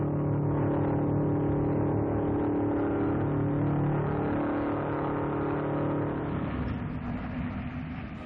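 A small MG speed-trial car races on a track, its engine droning steadily and loudly throughout with a continuous harmonic whine that shifts slightly in pitch, no voices present.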